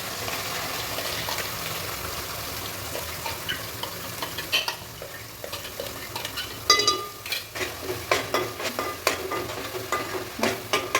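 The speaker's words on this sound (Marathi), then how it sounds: "मस्त असं तेल सुटेपर्यंत भाजून घ्यायचा हा मसाला" Ground masala paste roasting in hot oil with cumin seeds in a pan for a Maharashtrian chicken curry: a constant sizzle at first, then rhythmic scraping stirs growing louder near the end, with no voices.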